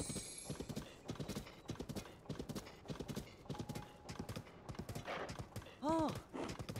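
Horse hooves clip-clopping steadily in the video game Tears of the Kingdom, a fast rhythmic trot running throughout, with a brief neigh near the end and a voice talking over it at times.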